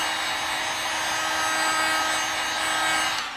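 A heat gun blows hot air onto a pistol grip piece for an SCCY CPX-2, a steady close whirring hiss with a faint tonal hum that holds constant, then trails off at the end.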